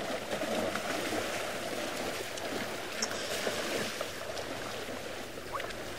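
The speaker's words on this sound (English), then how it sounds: "You can just hear them all walking along through the water." Herd of wild animals at a safari waterhole splashing and wading through water, a steady broadband wash of sloshing and splashing throughout, close and continuous.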